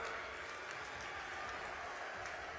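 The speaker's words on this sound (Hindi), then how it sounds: "जोर से ताली बजाइए एक बार।" A political election rally crowd in Haryana applauding, a steady dense wash of clapping heard from a distance, unbroken and even in level throughout.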